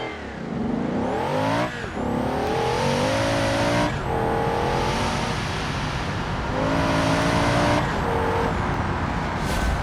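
A car engine in the racing game BeamNG revs hard and climbs through the gears, with repeated rising pulls each broken by a short shift gap, loud and close throughout with no talk over it.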